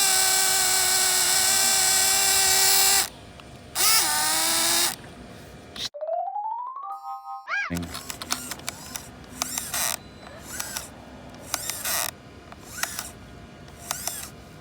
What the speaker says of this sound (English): You can hear the gears stripped out inside the steering servo